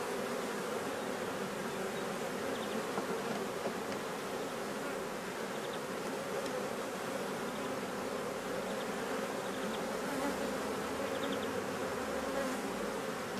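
Honeybees buzz steadily around an opened hive whose frames are heavy with honey and hold drone brood, a dense continuous hum close by with no talking.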